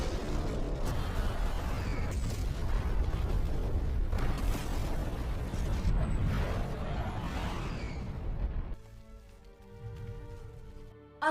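A deep, sustained film explosion of a war battle rumbles and roars for several seconds, then gives way abruptly to a quieter, different background.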